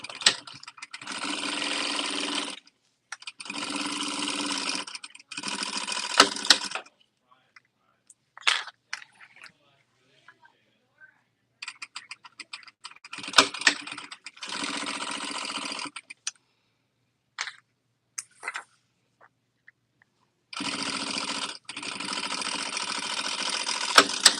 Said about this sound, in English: I'm going to chain stitch this all together.